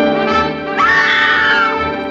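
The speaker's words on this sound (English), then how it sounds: "The scream of a woman who just saw some very disappointing versions of her favorite comic book heroes." A woman's high scream rises and falls across about a second, ringing out over an old, hissy film soundtrack from a 1940s Batman serial, with no other voices.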